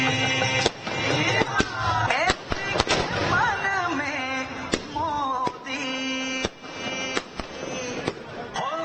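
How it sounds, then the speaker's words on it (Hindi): Firecrackers and fireworks at a BJP election victory celebration in Madhya Pradesh, a dense, continuous crackle of sharp bangs and pops layered over festive music and crowd noise. "ये बम, पटाखे, फुलझड़ियां इस वक्त आप देख रहे हैं"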